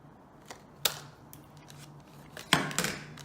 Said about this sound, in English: I'm using a 3/4 inch punch, and I'm going to cut about half circle